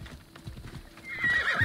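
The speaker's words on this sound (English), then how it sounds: "Come on, horse." Rapid hoofbeats of a galloping horse in the video game Assassin's Creed Odyssey, followed by a loud neigh near the end, close and clear with no speech.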